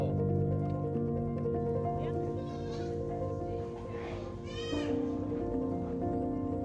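Goats bleating at a farm where visitors come to see them, several overlapping calls with a higher wavering bleat near the middle, set against steady background noise and some talking.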